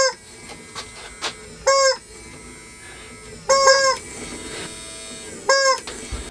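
A rubber chicken, squeezed by an automatic pushing machine, gives three loud, wheezing squawks a couple of seconds apart, with faint mechanical clicks and hum in between.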